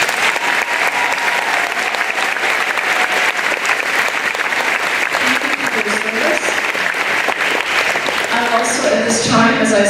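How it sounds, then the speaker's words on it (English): Loud, sustained applause from a school audience at a Veterans Day assembly honouring veteran staff, dense and continuous throughout, with voices and a few cheers rising near the end. "Let's give them a round of applause."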